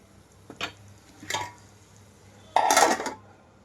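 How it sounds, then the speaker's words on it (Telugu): Lid set down on a steel pot of fenugreek leaf dal, giving two light clinks followed by a louder, longer metallic rattle as it settles; close and clear, with no talking. "ఇందులోకి మూత పెట్టేస్తున్నాను నేను ఇక్కడ"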